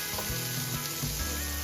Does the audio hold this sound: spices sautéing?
yes